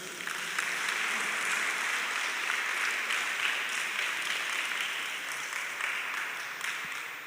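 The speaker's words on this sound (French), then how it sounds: "D'applaudir encore une fois tout le corps des éducateurs." Children at a graduates' awards ceremony applaud the teaching staff again, a thick, even wash of many hands clapping steadily from start to finish.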